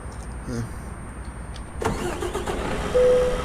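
Truck engine starting in Euro Truck Simulator 2, a brief crank that catches and settles into a low idle rumble, heard over steady background noise.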